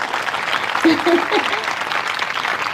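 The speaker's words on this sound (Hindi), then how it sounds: "तालियां बजाओ" A seated gathering claps together in a steady, dense wash of applause, moderately loud, with a voice briefly heard over it partway through.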